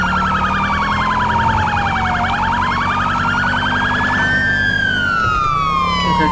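Police car siren in GTA LSPDFR, loud and close, wailing up and down over a droning engine, then shifting to a different rising siren pattern near the end.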